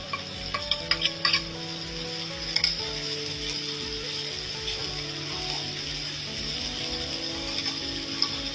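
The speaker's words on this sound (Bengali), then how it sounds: "এখন আমি শুটকিটা দিয়ে এগুলোর সাথে ভাজা ভাজা করব" Dried fish (shutki) frying with onions and chillies in a pan, a soft sizzle under repeated scraping and clinking strokes of a spatula, close and moderately quiet with no talk.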